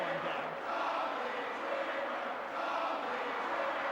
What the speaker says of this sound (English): Listen to this corny crowd. They were going, Tommy Dreamer, Tommy Dreamer.